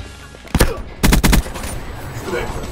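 Several loud gunshots in the Black Ops 3 video game: a single burst, then a quick cluster of three or four shots, followed by a lower, quieter background of game noise.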